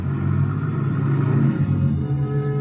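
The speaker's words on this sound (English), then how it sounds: "I hear a car winding down the long driveway" A car engine rumbles steadily close by, a low continuous drone with no voices.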